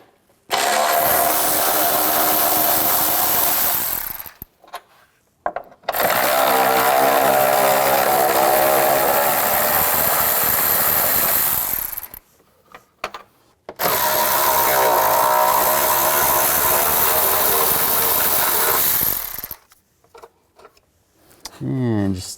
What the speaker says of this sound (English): Now I'm going to use a 13mm socket. Take these two bolts out, and there's one nut over here.